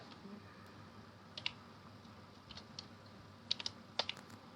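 Typing of a code into a box on a computer keyboard during a sign-in, heard as faint scattered key clicks in small clusters over low steady background hiss.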